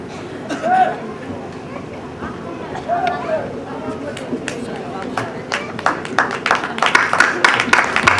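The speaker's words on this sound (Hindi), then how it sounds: "तालियां बजाइए" Scattered applause at a Sainthwar Mall Rajput Trust family gathering in Gorakhpur, thin at first and building to denser clapping toward the end, with a voice and crowd chatter mixed in.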